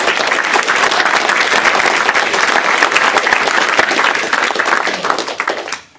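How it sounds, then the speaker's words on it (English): An awards-ceremony audience at a financial modeling championship applauds loudly and continuously, a dense roar of many hands that holds steady before fading out quickly at the end. "I think a round of applause for making the competition possible."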